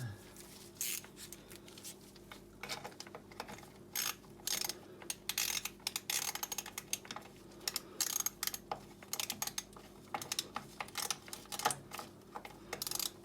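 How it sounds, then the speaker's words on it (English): Quiet clicking and ratcheting taps while a TPMS valve is tightened into an alloy wheel with the tyre still fitted, irregular small mechanical ticks over a low steady hum. "Tighten the TPMS in."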